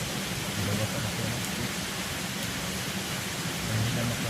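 Rain falls steadily as a dense, even hiss with no breaks, with a faint low rumble underneath and no clear voices.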